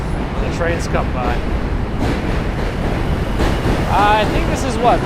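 Train rumbling past on a New York City line, a steady heavy roar filling the background while a person talks close by, his voice over the continuous rail noise.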